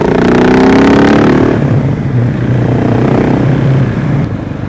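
A KTM 690 SMC motorcycle engine revs hard with a loud, raspy Akrapovic aftermarket exhaust, then drops back to a throbbing, burbling idle, close by.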